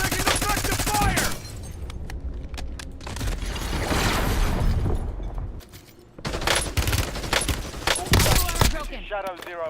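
Loud, dense automatic gunfire rattles in a video game firefight, with rapid volleys and overlapping bursts, a short lull partway through and then heavy shooting again, with voices talking under the noise.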